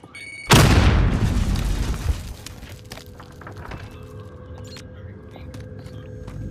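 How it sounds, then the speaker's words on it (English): A loud grenade blast bursts close by in the Call of Duty video game, a sudden heavy boom that decays over about two seconds into background game noise, with players talking. "Grenade out!"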